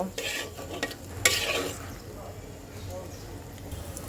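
Spiced onion frying and being stirred in a pan with ground cumin, sizzling steadily under scraping stir strokes, with a sharper burst of sizzle and clatter partway through.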